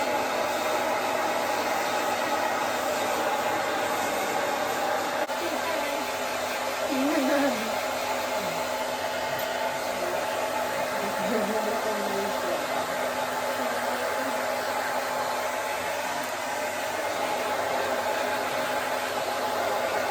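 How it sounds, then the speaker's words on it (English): A hair dryer blow-drying a small dog runs in a steady, loud, continuous whoosh and hum that fills the whole stretch, with faint muffled sounds beneath but no clear talk. "Right, we're gonna blow dry you now."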